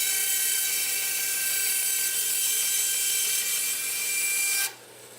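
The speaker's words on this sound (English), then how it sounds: "Ironwood just bogging down my poor little bandsaw." A small bandsaw cuts ironwood for a knife handle and bogs down, a loud, steady high-pitched whine close by that drops away sharply near the end.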